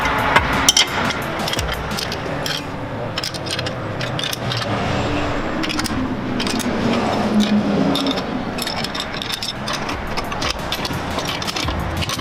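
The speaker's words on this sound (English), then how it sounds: "we'll just go ahead and start loosening all the bolts, starting with the lower control arm" Hand tools work on the rear lower control arm bolts of a 2017 Camaro SS 1LE suspension, giving close, loud metallic clanks, knocks and ratcheting in irregular bursts with no talk.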